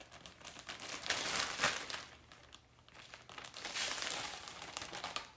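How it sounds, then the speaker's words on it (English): Cinnamon and sugar shaken and mixed inside a plastic Ziploc bag, giving bursts of close crinkling and rustling plastic that swell, pause briefly, then resume. "I'm gonna put the cinnamon and the sugar in the Ziploc bag."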